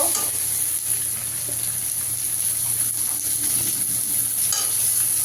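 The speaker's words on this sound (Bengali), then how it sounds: "একটা টমেটো কুচিয়ে রেখেছি, টমেটোটা দিয়ে দেব।" Chopped tomato frying with browned onion in a pan for a prawn dish gives a steady, close sizzle with scraping stirs over a low constant hum, heard without any talking.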